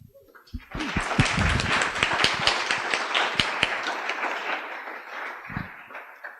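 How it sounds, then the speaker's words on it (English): An audience at a conference closing session gives a round of applause for the event volunteers, many hands clapping loudly and densely, building quickly, then thinning out and fading toward the end. "So just a big, also like round of applause like for"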